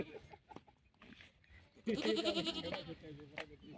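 A goat bleats loudly in a drawn-out, wavering call at a weekly goat market, with people talking nearby before and after.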